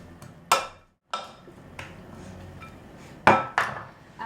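Salad being tossed in a bowl after a drizzle of olive oil and salt, sharp clinks and knocks of utensils against the bowl in irregular bursts, near and fairly loud.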